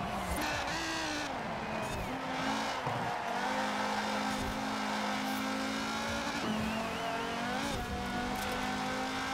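Car fitted with rally springs and sports tires driven hard in Forza Horizon 4, engine droning and shifting pitch steadily with tire squeals and skids, loud and continuous, a voice faintly talking over it.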